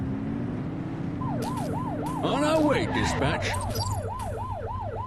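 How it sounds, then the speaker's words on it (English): Short police car siren blips from The Precinct video game, a rapid wailing sweep repeating over a low engine drone, with a voice speaking briefly in the middle. "Get on their tail and blip the siren"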